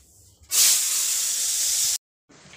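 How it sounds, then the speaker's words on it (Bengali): Fish fry in a hot pan with a sudden, loud, close hiss of sizzling oil that holds steady for about a second and a half, then cuts off abruptly. "এখানে দেখো মাছ কটা ভেজে নিয়েছি, এখনো কিছু মাছ আছে, আমি এই যে ভেজে নেব।"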